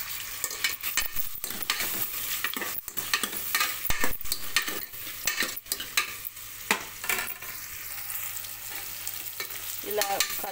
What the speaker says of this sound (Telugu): ఇవి కలుపుతూ గోల్డెన్ బ్రౌన్ వచ్చే వరకు వేయించుకోవాలండి.